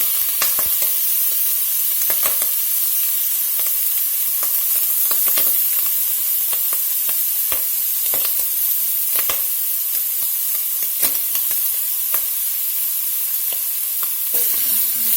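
Browned ham and salt pork fry in a skillet for a pot of soup beans. A steady close sizzle carries on throughout, with frequent sharp pops and spatters and no talking.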